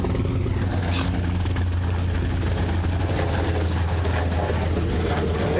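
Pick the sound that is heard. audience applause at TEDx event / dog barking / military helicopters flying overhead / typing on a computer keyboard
military helicopters flying overhead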